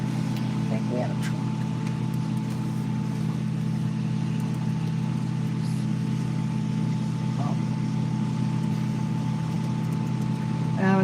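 A truck going by near railway tracks in Titusville, Pennsylvania, heard as a steady, loud, low engine drone that hums for the whole eleven seconds, with faint voices in the background.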